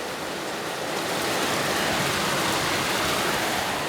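Heavy rain in a storm beating against a window: a dense, unbroken roaring wash of water, loud and close, swelling a little and holding steady without any speech.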